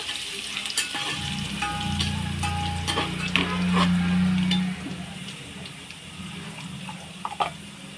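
Ground masala paste sizzles and fries in a pan while being stirred, a steady close crackle with scraping stirs and a few clinks, louder in the middle then settling to a softer sizzle.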